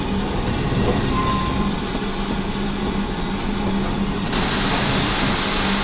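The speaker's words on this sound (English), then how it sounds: "So this train is for Steam Sound Supreme." A locomotive in a video game with the Steam Sound Supreme sound mod runs continuously, a steady rumbling rail drone with a faint squeal, no talking over it.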